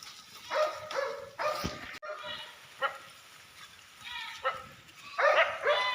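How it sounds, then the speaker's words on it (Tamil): Farm dogs bark at strangers grazing goats in an orchard, a series of repeated nearby barks and yips in irregular bursts, some overlapping. "தோட்டத்தில் இருந்த நாய்க ஒரே ரவுஸுங்க."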